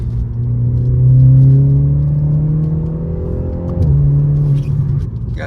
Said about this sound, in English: as you guys can hear, the exhaust isn't too aggressive